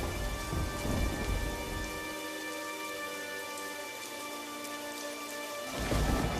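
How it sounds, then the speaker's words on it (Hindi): Heavy rain pours steadily with a low rumbling storm roar, loudest at the start and end, easing slightly in the middle; no voices. "अचानक से जोर का तूफान आया और बारिश शुरू हो गई"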